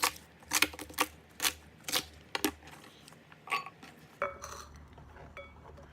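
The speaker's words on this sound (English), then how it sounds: "I'm going to cut the onions now, green onion." A knife slices green onion on a cutting board while vegetables are prepped for stir-fried chicken gizzards with garlic sprouts, producing about a dozen quiet, crisp clicks in an uneven rhythm.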